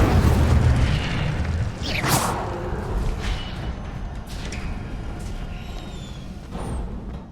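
An Incendio fire spell blasts in the video game Hogwarts Legacy, a heavy booming burst at the start that fades into crackling, whooshing spell effects and softer impacts.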